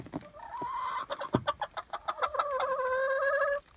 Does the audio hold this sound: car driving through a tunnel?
no